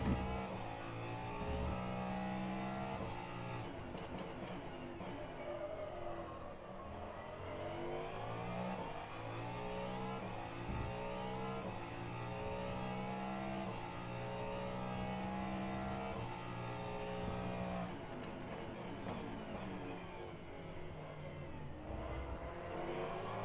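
A Ferrari race car engine in the racing sim rFactor 2 at the Daytona road course, revving continuously through gear changes with rising and falling pitch sweeps, steady and close for the whole stretch.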